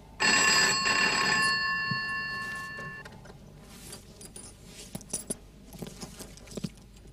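A telephone rings in a Marathi stage comedy: one sustained electronic ring for about three seconds, then it stops, followed by scattered clicks and knocks in a quiet room.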